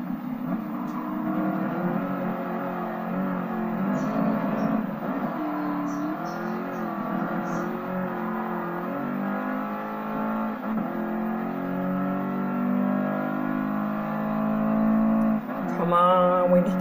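Sports car engine in Gran Turismo Sport, a steady sustained drone with layered harmonics that shift and rise in pitch, holding at a constant loud level before a brief surge near the end.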